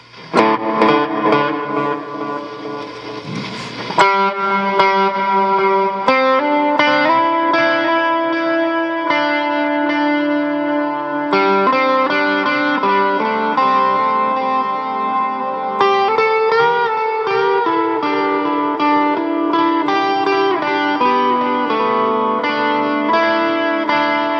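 An electric guitar plays through a Boss RV-6 reverb pedal. A strummed opening gives way to sustained notes and chords, each ringing out in a lush, washy tail that fills the gaps between them.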